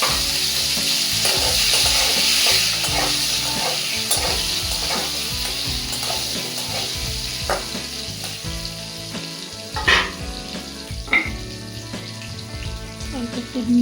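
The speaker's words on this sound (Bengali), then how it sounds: "এরপর আমি আলু কাটাও ভেজে নেবো একটু লাল লাল করে" Potato pieces frying in oil for a Bengali rui fish curry, a steady close sizzle broken by repeated scraping stirs and a few sharper clinks toward the end.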